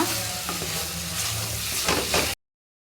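Chicken liver fry sizzling in a pan while it is stirred: a loud close sizzle with scraping spatula strokes near the end, then abrupt silence.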